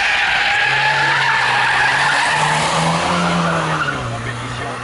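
A Peugeot 205 Turbo 16 rally car launches on a historic hillclimb, its engine roaring loud and close with squealing tires, while a commentator talks over the noise.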